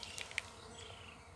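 Honeybees fanning at the entrance of a hive kept in a wine barrel on a hot evening, a faint steady insect hum with a few brief, brighter buzzes from individual bees passing close.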